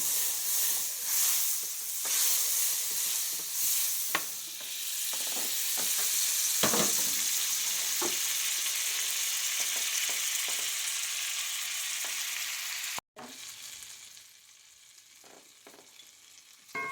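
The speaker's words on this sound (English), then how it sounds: "I'm going to add 1/2 stick of our butter into that, and I'm going to make sure that melts down all the way." Half a stick of butter melting over high heat in a breakfast skillet, a steady close frying sizzle and hiss with occasional stirring clinks and scrapes, heard alone without voices.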